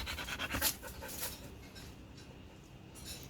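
A seven-year-old pet dog near a garden gate pants in quick, rhythmic breaths, close and fairly loud at first, then softer and steady, with no talking over it.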